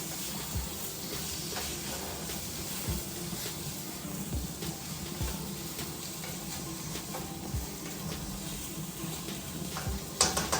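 Shepherd's pie filling with carrots sizzles steadily in a pan while a utensil stirs it, giving soft scraping and frying crackle at close range with no talking.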